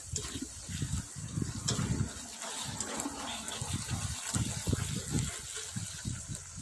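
Frog meat stir-fried with fingerroot, fresh peppercorns and chilies, giving a steady hiss of frying with irregular scraping and tossing bursts from the pan, close and fairly loud, no voices.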